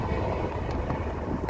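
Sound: train passing

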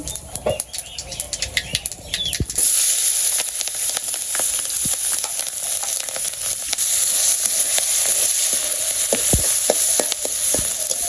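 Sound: cumin and radhuni frying in hot oil

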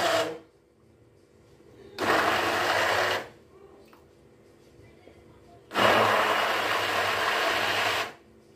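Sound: blender briefly blending pistachio kulfi mixture with dry fruits

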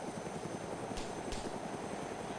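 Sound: plane flying in a video game

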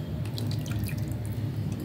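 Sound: water poured from a jar into a mixer jar

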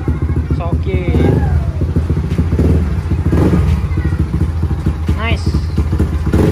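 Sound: Yamaha Aerox scooter engine running after starter fixed

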